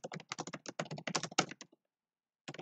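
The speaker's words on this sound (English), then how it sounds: "I'm just typing it out again because I don't want to make copy-paste errors." Bursts of rapid key taps on a computer keyboard while code is typed, close and fairly clear, pausing briefly near the end before resuming.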